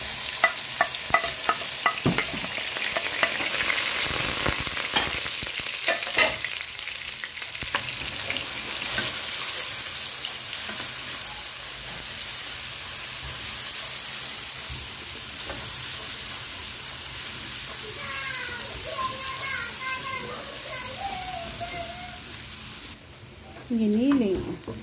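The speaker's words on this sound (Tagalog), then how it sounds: "Gisahin natin ang onion at garlic." Onion and garlic sauté in a pan for Filipino vegetable lumpia, with steady sizzling and frying plus stirring clatter throughout; a voice speaks briefly near the end.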